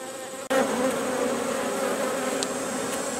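Honey bees swarm around their hive after accepting a new queen. They make a dense, continuous close-up buzzing that starts abruptly after a brief silent gap and holds steady.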